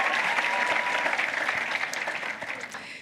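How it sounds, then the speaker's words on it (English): Graduates applauding themselves at a university graduation ceremony, a broad crowd of clapping hands that stays strong and gradually tapers slightly in level. "Clap for yourselves"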